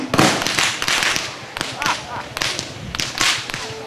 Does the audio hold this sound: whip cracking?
yes